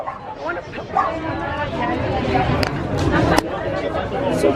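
A puppy yips and barks repeatedly, close by, mixed with chattering voices and background bustle.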